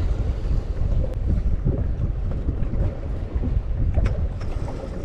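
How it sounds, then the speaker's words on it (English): Strong sea wind buffets the microphone aboard a small fishing boat out of Newhaven, East Sussex, during turbot fishing, a steady roaring rush with gusty low rumble and faint water slaps, and no voices. "Wind's picked up a little bit more than I thought it was going to"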